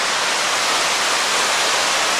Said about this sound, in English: Beautiful little waterfall.